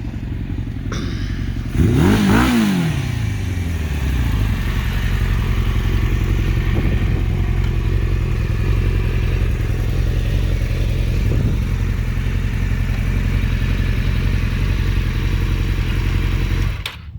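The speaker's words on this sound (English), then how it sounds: "Ooh. I hear more throttle." Suzuki GSX-R750 sport motorcycle engine revving nearby after tuning, a sharp throttle blip rising and falling early on, then a loud steady idle rumble continuing alone to the end.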